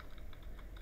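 Quick, light clicks of a computer keyboard, about eight or nine irregular keystrokes within a brief moment, soft and close with no talking.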